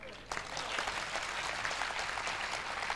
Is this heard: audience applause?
yes